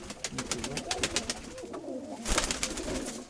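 A pigeon kept by a fancier coos and its wings clap in quick rhythmic bursts close by, with a louder flutter near the end and no clear talking.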